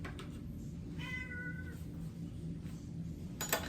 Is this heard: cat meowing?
yes